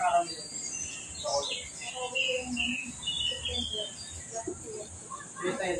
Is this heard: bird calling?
yes